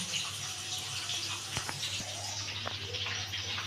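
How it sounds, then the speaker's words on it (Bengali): Close running tap water splashes steadily as a bowl is rinsed in a home kitchen, with a few light clinks of the bowl against the sink in a short, continuous wash. "এই বাটিটা একটু ধুয়ে জলটা নিয়ে নিলাম"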